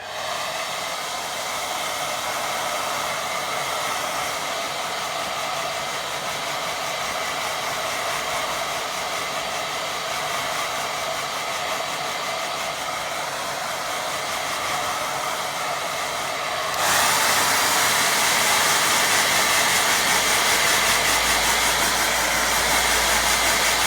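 A hair dryer runs close up, drying a watercolour painting, a constant loud whirring blow that steps up to a higher, louder setting near the end.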